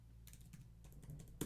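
Computer keyboard typing, a short run of quiet, close key taps entering data into an accounting spreadsheet, faint over a low hum.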